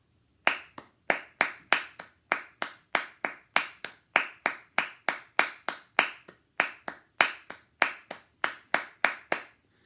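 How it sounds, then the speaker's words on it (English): One person claps a three-pulse rhythm with each pulse split in half: crisp, close, evenly spaced claps repeating steadily for the whole stretch with no other sound. "I'm going to clap a 3-pulse split in half"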